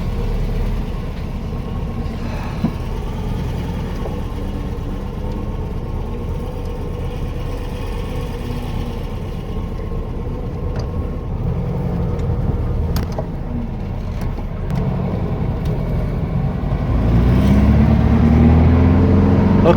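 Engine of a blue Volkswagen Beetle running during a test ride after clutch work, a steady low rumble throughout that swells louder near the end as it pulls away.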